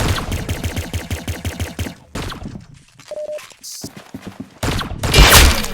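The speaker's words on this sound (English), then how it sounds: "Very good shooting." Rapid automatic gunfire in the video game Arsenal cracks out in a fast, even burst, then gives way to scattered shots, clicks and a final loud blast, close and dense.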